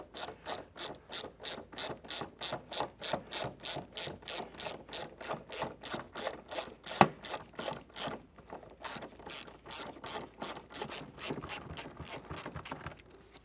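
Socket ratchet working a grade 8 bolt on a Nissan 280ZX, giving a steady run of close, crisp clicks in regular bursts over about thirteen seconds, with one sharper knock near the middle.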